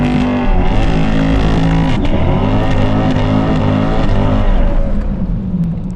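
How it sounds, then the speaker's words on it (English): A C8 Corvette roars through a burnout and a hard drag strip launch, the engine note climbing through rising gear pulls, loud and sustained before easing off at the end of the run. "we got a solid burnout in there. Took her all the way down the track"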